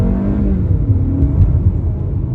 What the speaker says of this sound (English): if we just set off on the main road, light acceleration